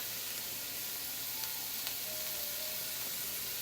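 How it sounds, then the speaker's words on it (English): Onions and bell peppers sizzle in a pan, cooking for smoked turkey sausage and cabbage, with a soft, even, continuous frying hiss and no voices. "you can hear the onions and peppers starting to cook"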